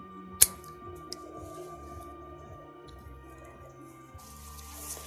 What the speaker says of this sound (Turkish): Şöyle çeliğimizi uzun olduğu için ortadan ikiye kesiyorum.